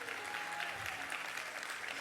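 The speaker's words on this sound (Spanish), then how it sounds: "Vamos a darle un aplauso si usted lo cree." A church congregation applauding together during a sermon, a steady dense wash of clapping that fills the space for the whole stretch.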